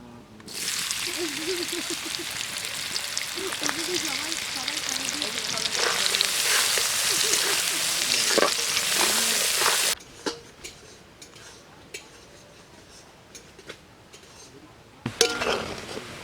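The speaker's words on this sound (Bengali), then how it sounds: "পেঁয়াজটা লাল লাল করে ভাজা হয়ে গিয়েছে।" Onions fry in a pan during an outdoor cooking session, a dense, loud sizzle with stirring scrapes for about ten seconds, then quieter crackling broken by metallic clinks of utensils.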